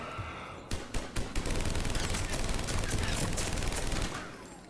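Sustained rapid gunfire in a Mass Effect 3 battle against husks, a dense burst of overlapping shots starting with a few sharp cracks and then a continuous loud fusillade for several seconds before tapering off.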